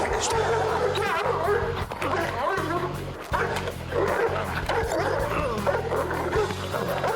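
Police dogs bark and yip during bite training on a law-enforcement reality show, a dense, loud stream of excited barking that never lets up, with people talking over it throughout.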